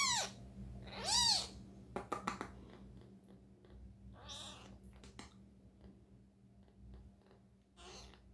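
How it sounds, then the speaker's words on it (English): A kitten gives several close, rising meows separated by soft purring and faint rustling, with no speech over it. "Do you hear him purring? He's doing between the meowing."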